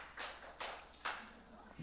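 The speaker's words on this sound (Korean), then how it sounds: "박수를 5번 쳐보겠습니다" A few sharp hand claps, quiet and a little distant in a room, evenly spaced with short gaps, the last one faint.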